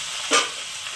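Spices with turmeric and green chilli sautéed in a pan, a soft continuous sizzle with one brief louder hissing burst as the mixture is stirred, close and without talk.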